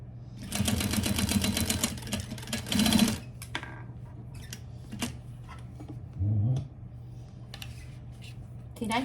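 A sewing machine stitches a small unlined fabric pouch: a dense, rapid run of needle clatter, then brief stop-start bursts and light clicks over a steady motor hum, close up, with no speech.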